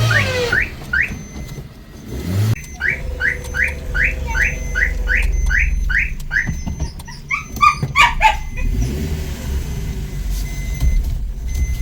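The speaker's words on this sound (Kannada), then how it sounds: "ಚಿಕ್ಕ ನಾಯಿ ಮರಿ ಬರ್ತಾವ ನೋಡ" Small puppies yap in a quick series of high barks and whimpers, with a cluster of sharper yelps later on, while birds chirp and a car hums faintly in the background.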